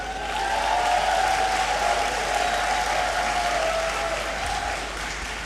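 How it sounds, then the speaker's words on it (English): Graduates clapping for themselves in a great hall at a university congregation ceremony: sustained, dense applause from a large crowd, loud and even, fading slightly toward the end, with no talking over it. "Clap for yourselves."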